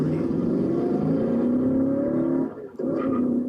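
A 1967 Shelby GT350 Mustang engine pulling hard while driving, a loud, steady deep roar with rising pitch, a brief dip as it shifts gear, then resuming its strong drone.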